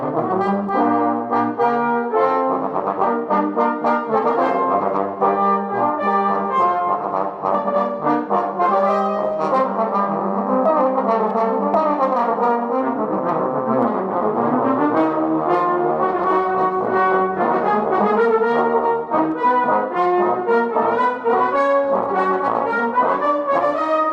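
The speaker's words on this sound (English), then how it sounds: "When we attach the mouthpiece to the horn, we can get sounds like this." A French horn plays sustained brass notes throughout, a steady run of rich mellow tones with no talking, loud and close.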